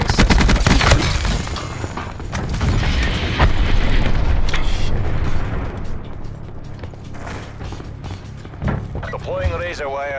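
Video game gunfire from a military shooter with a firing system: sharp, loud shots and rattling bursts early on, heavy rumbling booms in between, and talk over the combat.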